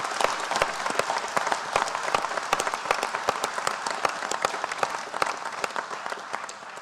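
An audience at a youth farmers' club annual general meeting applauds, dense, steady clapping from many hands that holds at an even level throughout.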